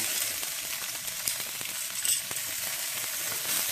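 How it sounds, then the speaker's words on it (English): Meat laid skin side down on a Weber Smokey Mountain smoker sizzles steadily, a bright, crackling hiss with small pops, close and continuous with no talk. "So I'm going to put this back on the smoker. Skin side down."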